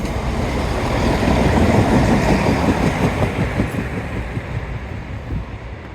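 A train rumbles past close by at Dawlish on the English coast, with a steady rolling clatter of wheels over the rails, accompanied by wind buffeting the microphone.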